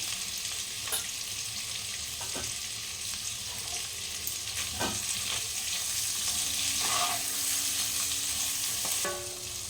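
Potatoes fry steadily in a pan seasoned with turmeric and salt, a continuous broadband sizzle with occasional stirring scrapes and soft clicks of a utensil, close and even throughout.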